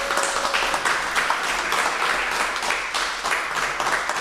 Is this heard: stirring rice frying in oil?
no